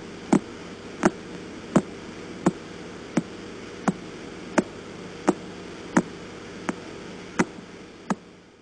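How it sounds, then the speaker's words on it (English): Radio recording of a pulsar star gives sharp, evenly spaced ticks, about one every three quarters of a second, knocking steadily over a constant hiss of static, with no voices. "That's the sound of what they call a pulsar"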